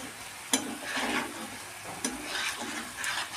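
Spice paste fries in oil in a pan for a paneer curry, a steady close sizzle with a few sharp scrape or clatter transients as it is stirred.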